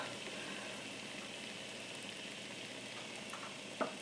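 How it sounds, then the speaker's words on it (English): Paw balm ingredients with jojoba oil melting in a pan while being stirred, a faint, steady sizzle with a small clink near the end. "So what I'm doing is I'm just carefully stirring this and waiting for this to slowly melt down"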